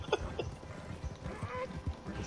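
Horse galloping in a video game, rhythmic hoof thuds repeating at an even pace, fairly faint, with game ambience and soft voices in the background.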